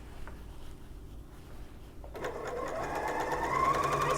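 Sewing machine stitching a quarter-inch quilt seam, starting after a quiet pause and running steadily with a fast, even mechanical whir that grows slightly louder toward the end.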